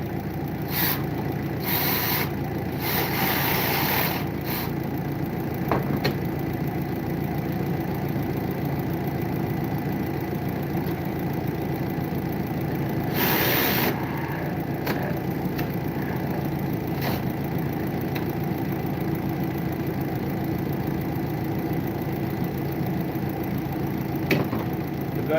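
A Kia Soul engine idling steadily with a loose belt, giving a continuous even hum with a few brief sharp clanks and taps early on and midway.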